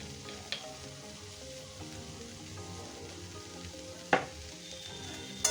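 Papaya frying in a pan with chicken masala and salt, a faint steady sizzle with soft stirring and a couple of sharp metallic clicks, close but quiet, no speech.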